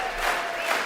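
Audience cheering and applauding for Dr. Pruitt, a steady wash of clapping and crowd noise that holds at an even level throughout, with no break or single standout voice.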